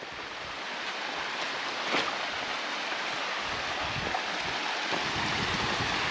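A mountain stream cascades down a rocky hillside beside a trail, a continuous close rushing and splashing that holds steady throughout.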